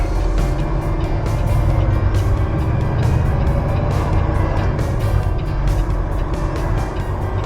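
Loaded truck pulling away and driving on, a loud, steady low engine drone with road rumble and light rattles, heard close from inside the cab; no voices.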